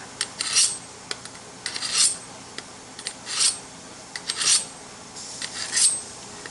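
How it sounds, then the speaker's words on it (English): A sharp knife slices through frozen beef roast and sirloin steak in repeated rasping strokes, each cut a short scraping sweep with small clicks against the board between them, close and clear. "I'm cutting up some roasts and some sirloin steak."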